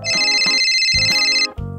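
Phone ringtone trilling loudly in a repeated electronic pattern of bright beeping pulses, cutting off abruptly near the end as the call is answered.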